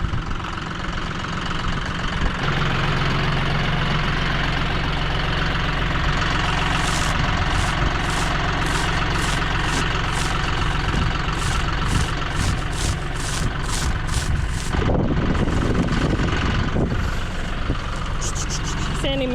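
Wind gusting in a cold arctic blast alongside an engine idling close by, a continuous loud rumble with brief rattles and a voice speaking over it.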